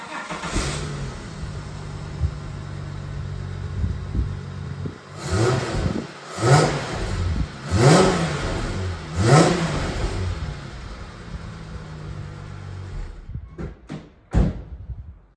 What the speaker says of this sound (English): let's start the car up and see how it sounds now